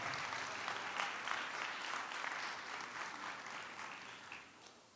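A festival audience at an international architecture event claps in steady, dense applause for about five seconds, which slowly softens toward the end.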